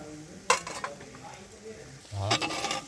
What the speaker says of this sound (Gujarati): કેપ્સિકન મરચા નખાઈ રહ્યા છે